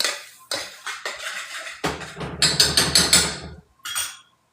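A spoon stirs shiitake gravy in a pot, making a series of loud, close metallic scrapes and clinks against the pot in uneven bursts, then a brief pause and one last clatter.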